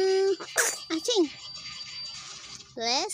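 A sneeze from a small child at home, a short sharp burst near the mic amid a child's babble and an adult's talk in Cebuano.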